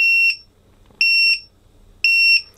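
Three loud, high-pitched electronic beeps from a Dronekeeper Mini lost model alarm, each a short double chirp, repeating about once a second with quiet gaps between.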